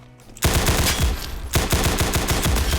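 Rapid gunfire in a Roblox take on CS:GO, a burst of loud repeated shots starting suddenly and continuing in a steady rattling rhythm after a short pause, with no talking.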